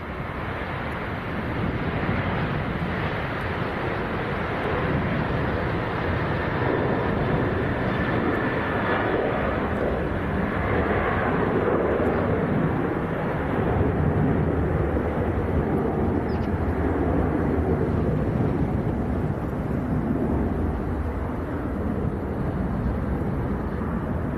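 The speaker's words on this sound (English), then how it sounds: "Ryanair to Gdansk on the roll" A Ryanair jet bound for Gdansk on its takeoff roll at Leeds Bradford Airport, a sustained, distant broadband engine roar with wind buffeting the microphone, steady and unbroken throughout.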